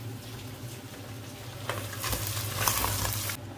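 Ginger and pork fat sautéing in a pan for papaitan, a steady sizzle that swells louder in the second half with stirring scrapes, close and without talk.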